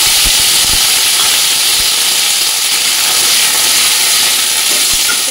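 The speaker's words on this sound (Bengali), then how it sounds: "একটু ভালো করে ভাজা ভাজা করে নিই।" Onion, tomato, ginger and garlic fry in a pan over whole garam masala, giving a loud, steady, unbroken sizzling hiss from start to finish.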